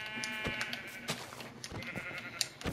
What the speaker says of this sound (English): There being 3 sheep so we can make a bed.